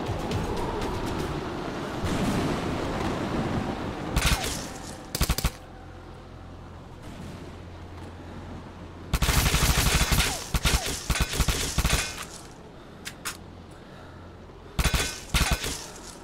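Bursts of rapid gunfire in an indie horror video game set in a psychiatric asylum: loud, close volleys that come in several separate clusters between quieter stretches, with no talking.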